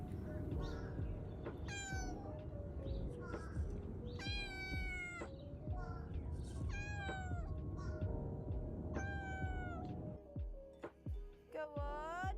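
A sick kitten with influenza meows repeatedly in high, strained cries, near and clear over a low background rumble, ending in a few thumps and bumps.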